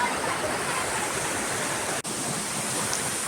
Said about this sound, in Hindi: पहाड़ों को, चट्टानों को चीरते हुए अपनी जगह बनाता है ये झरना।